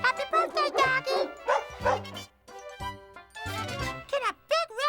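A dog at a birthday party yips and barks in short, excited bursts close by, mixed with whimpers and a light jingle, while voices are heard too.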